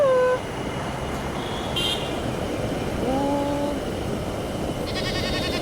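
Goats bleating in rural Sri Lanka, a few short wavering cries at the start and again midway, fairly faint against steady outdoor background noise, with a brief horn-like tone near the end.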